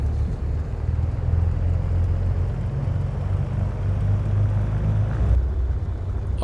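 A Cessna's engine drones steadily in Microsoft Flight Simulator 2024 as the plane begins to taxi at Tofino, a dense, even rumble that shifts slightly in tone near the end.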